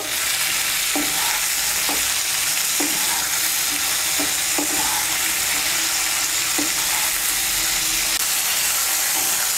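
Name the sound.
flat beans (shim) frying in oil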